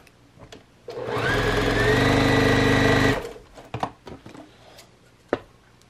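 A sewing machine stitches pieces of quilt fabric together in one steady, loud burst of about two seconds, with faint handling clicks and rustles of the fabric before and after.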